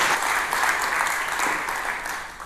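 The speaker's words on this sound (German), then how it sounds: "deshalb würde ich euch bitten, einen großen Applaus" An audience at a talk on secure deletion of data from SSDs claps in loud, steady, dense applause that holds evenly and then fades slightly toward the end.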